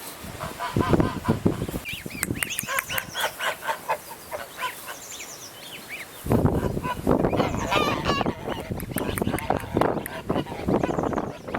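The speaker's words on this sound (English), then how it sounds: "Yes, that's a city goose." A city goose honks repeatedly at close range in rhythmic bursts, its calls mingling with a person talking to it throughout.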